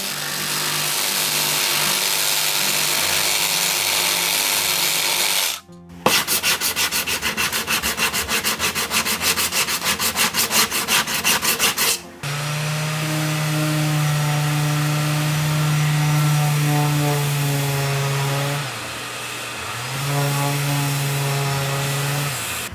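A power tool rounds over the top edge of a wooden countertop for a kitchen breakfast bar, giving a steady loud whirring grind that changes tone twice, with a pulsing middle section and a droning, pitch-shifting stretch at the end, close and continuous.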